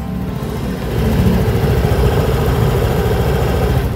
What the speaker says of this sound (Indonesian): kita dengerin suara mesinnya.